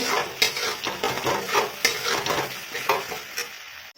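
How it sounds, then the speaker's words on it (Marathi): Spiced masala roasting in oil in a pan while being stirred, giving a steady sizzle broken by repeated scraping strokes of a spoon, close and moderately loud with no talking. "आणि हा मसाला छान तेल सुटेपर्यंत भाजून घ्यायचा आहे"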